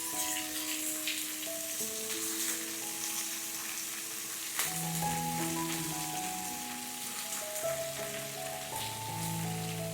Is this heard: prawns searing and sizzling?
yes